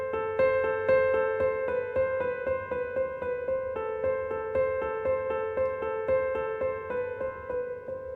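A simple three-note piano melody, played alone with the notes alternating in a steady, even rhythm, each one sustained and clear, with no talking over it.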